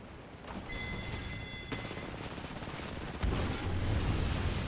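Rapid smart-bullet gunfire in the video game Apex Legends, a dense continuous burst of shots that grows louder and heavier partway through, with no talking.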